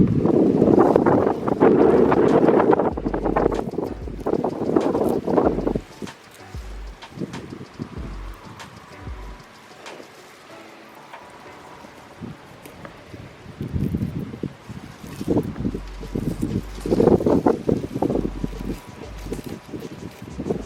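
Wind gusts buffet the microphone outdoors in a garden, loud rumbling bursts that come and go, dropping to quieter stretches with light rustling between gusts.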